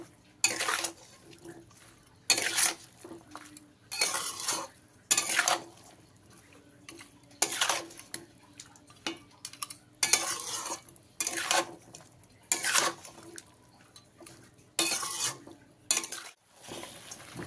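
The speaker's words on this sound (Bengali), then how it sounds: "ভালো করে চিকেনের মধ্যে মিশিয়ে নেব" Chicken pieces being mixed with salt and masala paste in a pot, heard as repeated bursts of wet stirring and spoon scraping at an uneven rhythm, separated by short pauses, close and without talk.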